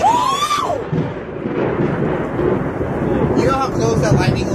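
Thunder from a very close lightning strike during an intense storm: a loud, rumbling crack and roll that dominates the scene, with voices reacting over it and some wind buffeting the microphone.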